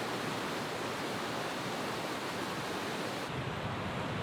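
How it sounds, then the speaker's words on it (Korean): Meltwater from the high mountains of Peru pours down a waterfall as a dense, unbroken rush of water, steady and fairly soft, with no voices. "높은 산에서 녹아내린 물이 개천이 되고 폭포로 쏟아지며"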